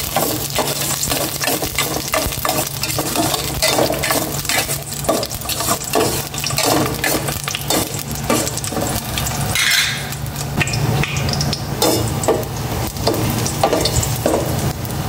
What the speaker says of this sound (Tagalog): Maglagay na ako ng cooking oil. Tama na yan. Kuminit naman na agad. Kaya lagay ko na itong bawang.